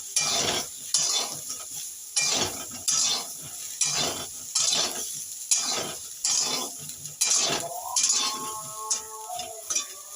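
Cauliflower and potato fry with turmeric in a pan, rhythmic scraping stir strokes repeating every second or so over a soft sizzle, close and clear.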